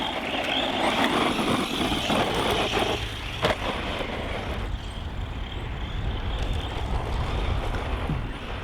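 A Maverick Quantum 2 Flux RC car on a 2S battery runs at full speed outdoors, its motor whine steady and continuous with broad rushing noise, as if moving past and away, with no talk.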